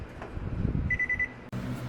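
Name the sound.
oven timer beeping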